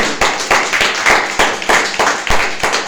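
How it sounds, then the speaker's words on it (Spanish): Church congregation clapping together in a steady, loud rhythm, sharp hand claps repeating roughly every half second, close and continuous with no talk over it. "Denle un fuerte aplauso al Señor"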